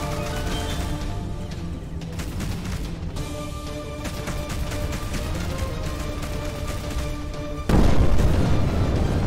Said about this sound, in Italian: che botto. Quello era il missile atomico, secondo me.